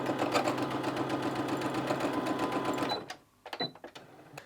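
A sewing machine stitches fabric bunting in a steady, close whirring run, then stops and gives a few short stitching bursts with light handling noise.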